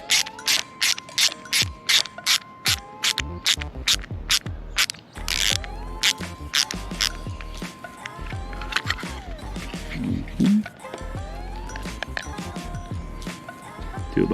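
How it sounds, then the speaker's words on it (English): A screwdriver drives and tightens screws on a Garmin Force trolling motor pull cable and handle, giving a close, rapid run of ratcheting clicks in bursts with brief pauses, mechanical and fairly loud. "Grab the screwdriver and then tighten them down."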